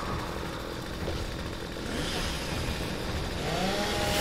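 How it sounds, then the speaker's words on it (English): A chainsaw revving in the Gears of War 3 video game, a buzzy motor snarl that rises in intensity over a few seconds amid dense game noise, with a rising whine near the end. "Chainsaw's out."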